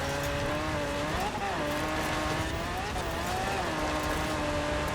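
A race car in the driving game Forza Horizon 4 roars steadily under load, its engine pitch sweeping up and down through gear changes while tires hiss on the surface, loud and continuous.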